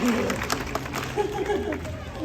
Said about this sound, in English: You can applaud her for that.